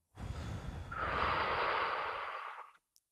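A single long, deep breath taken during a guided relaxation exercise, a noisy inhale swelling into a rushing exhale of about two seconds, close and soft, then silence.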